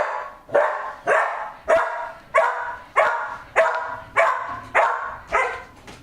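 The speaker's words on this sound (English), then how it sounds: "You literally heard my dog barking." A dog barks repeatedly at a steady pace, about eight sharp, loud barks close by, with no talking over it.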